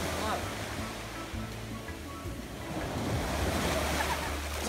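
Caribbean surf rolls onto a beach at Buck Island, St. Croix, as a steady wash of waves with wind buffeting the microphone and a low rumble that comes and goes.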